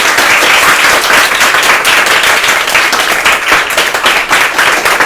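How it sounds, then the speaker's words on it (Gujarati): A gathering at a primary school bursts into loud, close, dense clapping from many hands, a continuous rattling roar that holds steady throughout. "બધા એકવાર તાળીઓ પાડો તમારા બધા માટે."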